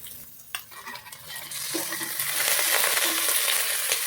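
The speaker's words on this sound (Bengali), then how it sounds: "পেঁয়াজগুলোকে একটু ভাজার পর মাংসটা এখানে দিয়ে দিব। চিকেনটা দিয়ে দিচ্ছি।" Chicken dropped into onions already frying with salt in a pan: a clatter and soft sizzle that swells into a loud, continuous hiss, with stirring scrapes near the mic.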